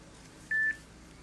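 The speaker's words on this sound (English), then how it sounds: "Dial the second party, whether internal or external." A single short dialing tone sounds from a Mitel 6900 series desk phone, clear and close over a quiet background hum.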